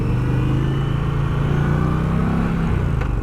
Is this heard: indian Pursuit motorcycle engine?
yes